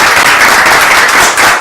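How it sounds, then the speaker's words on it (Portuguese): A round of applause for a TV program's technical crew, loud close clapping from a small group, dense and steady over a short stretch with no talk. "Eu quero pedir uma salva de palmas para todos"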